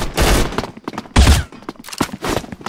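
Guns fire in the mobile shooter Bullet Angel, likely a purple-rarity weapon, with three loud, punchy bursts of shots separated by brief pauses and no talking.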